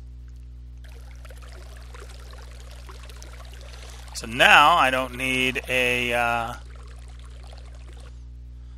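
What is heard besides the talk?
water pouring from a water wand in Minecraft Botania video game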